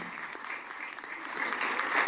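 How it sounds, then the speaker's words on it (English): A conference audience at the 23rd International OIDP Conference breaks into steady, moderately loud applause that builds slightly toward the end. "I ask for a round of applause"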